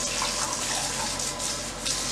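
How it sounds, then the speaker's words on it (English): Chicken broth poured from a container into a bowl in a home kitchen, a steady, close liquid splash and gurgle that runs for about two seconds without a break. "we're just going to pour our chicken broth in this bowl here"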